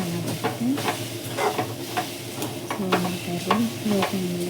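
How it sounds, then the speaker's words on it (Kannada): Grated raw coconut for crispy coconut obbattu is fried and stirred in a pan, producing close, fairly loud scraping strokes in a repeated rhythm over a steady sizzle, with no talking. "ಹಸಿ ಕೊಬ್ಬರಿ ಆಗಿರೋದ್ರಿಂದ ಫ್ರೈ ಮಾಡ್ತೀನಿ"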